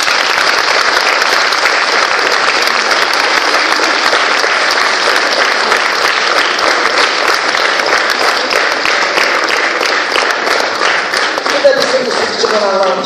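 Sustained, dense audience applause at a musical-literary evening honouring composer Elza Ibrahimova, loud and even throughout, thinning slightly at the very end.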